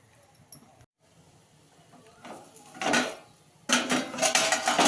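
A pan of garlic fenugreek (lasuni methi) greens being stirred, heard as quiet clinks and scraping of a utensil against metal that build into louder, busier bursts of rattling and stirring, with no talking.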